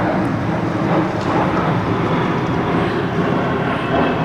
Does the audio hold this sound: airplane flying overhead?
yes